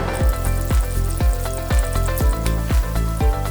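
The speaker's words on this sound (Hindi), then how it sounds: "खुबानी को भी इसी तरह बस 2 मिनट के लिए पकाएंगे।" Apricots with a little lemon cooking in oil in a pan, a loud continuous sizzle with regular rhythmic thumps roughly every half second, close and with no voices.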